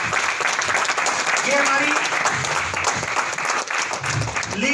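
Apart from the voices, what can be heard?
applause from audience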